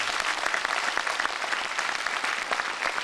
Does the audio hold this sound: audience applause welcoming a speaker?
yes